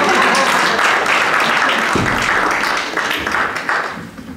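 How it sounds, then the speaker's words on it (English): A large audience applauds steadily at a 2018 couples weekend retreat, a dense, loud wash of clapping that tapers off slightly near the end. "I just have a round of applause now."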